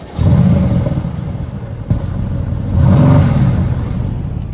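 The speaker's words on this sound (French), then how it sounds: "Mais je vais vous faire un petit cold start." A Mercedes-AMG GT S engine on a cold start revs up loudly twice, the second surge swelling then easing back to a steady idling rumble, close by with no talking.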